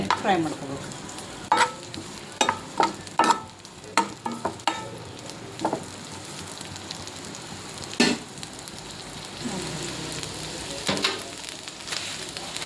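Onions fry in oil for a mutton gravy in a North Karnataka home kitchen. A close, steady sizzle plays under sharp clicks and scrapes of stirring, with a faint voice now and then.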